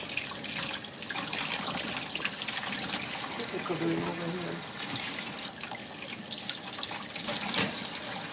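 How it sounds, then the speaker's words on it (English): Tap water runs steadily into a kitchen sink while fresh mint is washed under it, a continuous close splashing with a faint voice in the background. "I'm gonna wash this mint. Wash it off."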